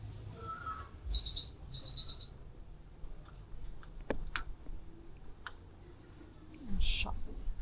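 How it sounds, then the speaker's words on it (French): Several birds chirp in short bright bursts in an outdoor street of the Jodipan colorful village in Malang, Indonesia, with a few sharp ticks and faint background noise between the calls. "Des oiseaux."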